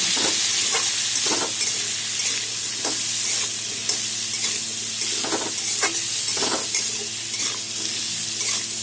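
Squash and potato pieces fry steadily in hot oil in a pan, a continuous loud sizzle broken by repeated scraping stirs of a spatula, with no voices.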